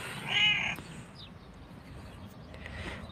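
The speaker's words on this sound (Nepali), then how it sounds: "बिरालो बिरालो" A cat in a park in Bugibba, Malta gives a single clear meow early on, moderately close, followed by quieter outdoor ambience with faint bird chirps.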